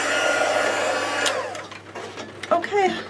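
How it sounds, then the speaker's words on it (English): A handheld heat embossing tool blows hot air over embossing powder, a steady close whooshing roar that cuts off partway, followed by a few faint handling sounds. "take my heat tool and just go over and heat this up"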